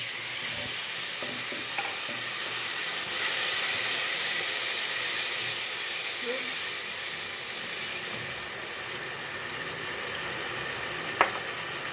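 Tomato frying with garlic and ginger in a pan, a steady close sizzle and hiss with occasional stirring scrapes and a brief clink near the end, no talk.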